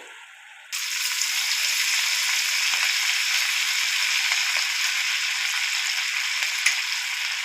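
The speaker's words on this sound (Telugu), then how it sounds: "గోల్డెన్ కలర్ వచ్చేదాకా ఫ్రై చేయండి" Chicken frying in hot oil until golden breaks into a loud, dense sizzle that starts abruptly and holds steady, close up, with faint crackles and no talking.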